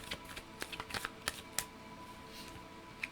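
Tarot cards being shuffled nearby, a string of quick crisp riffles and snaps, irregular in rhythm, fairly quiet with no talking.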